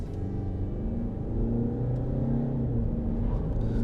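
A 2018 Land Rover Discovery Sport diesel pulls hard at full throttle, its engine a deep, close rumble that swells in loudness and climbs steadily in pitch as the vehicle gathers speed.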